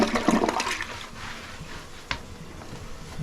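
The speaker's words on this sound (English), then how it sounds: "she's got a nice strong flush" A newly installed Kohler toilet gives a strong flush, with water rushing loudly at first and then settling into a steady draining hiss, with a brief knock partway through, close by and without speech.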